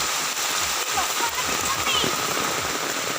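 Steady rain pattering on a surface nearby, a dense continuous patter with occasional heavier drops, while people talk over it.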